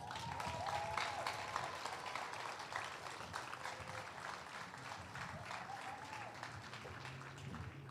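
Warm applause from the audience at a middle school promotion ceremony for the Class of 2021, greeting a student speaker: steady, dense clapping heard from a distance and fairly faint, lasting several seconds with a few whoops and cheers mixed in.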